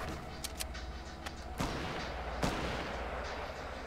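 Semi-automatic gun firing in a video game, a few faint, sharp single shots spaced irregularly over steady low background noise.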